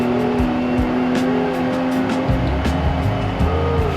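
Racing-style car engine from a car simulator video game driven with a homemade sequential shifter, steady droning engine with pitch shifts as gears change up, loud and continuous with no talking.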